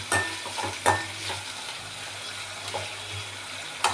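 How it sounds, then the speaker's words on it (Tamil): Dried anchovies sauté in a pan with a pinch of salt over a low flame, a steady soft sizzle broken by several sharp scraping strokes of a spatula as the fish is stirred, close and alone without any voices. "இப்போ அது சிம்மில் அப்படி கொஞ்சம் வதங்கட்டும். கொஞ்சம் அப்பப்போ கிளறி விட்டுக்கலாம்."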